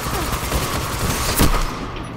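A Monte Carlo auto rifle fires in a Destiny Crucible match, a dense continuous stream of rapid gunshots with a sharper loud crack near the middle, loud and close over game noise.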